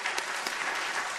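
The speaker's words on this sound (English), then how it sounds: "I'm going to give you a clap." Steady applause from a seated audience at a charity giving-day presentation, a dense, even patter of many hands clapping together throughout, fairly close and moderately loud with no voices over it.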